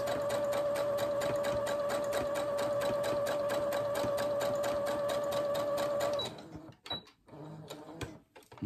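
A sewing machine stitching steadily around the edge of a fabric children's drawing book, its rapid, even whirring and clatter running for about six seconds before it stops, followed by a few soft handling clicks and rustles.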